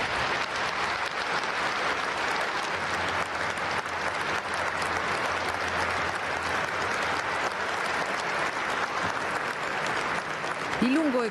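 A stadium crowd of about 20,000 at Stadio Friuli in Udine gives long, steady applause at a memorial for the Vajont victims, a dense wash of clapping heard from within the crowd.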